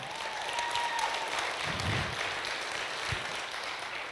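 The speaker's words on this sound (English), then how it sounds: "So you're clapping for yourselves" A seminar audience claps for themselves, a soft, distant, continuous patter of applause filling the room, fairly faint and even with a few louder bursts.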